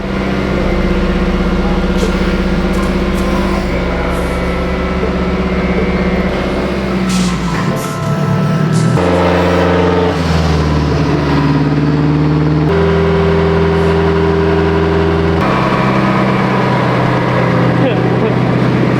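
A fully rebuilt car engine is stress tested on a dyno for the first time, revving loud and sustained with rising and falling pitch, and a shift in tone midway as the load changes.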